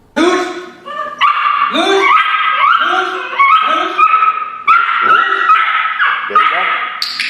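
German Shepherd puppies bark, yip and whine close by, a loud run of rapid, high-pitched overlapping calls with short pauses between bursts.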